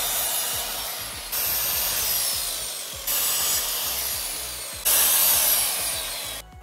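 Hand saw cutting driftwood sticks for a boho mirror, several rasping strokes in bursts separated by brief pauses, close and fairly quiet.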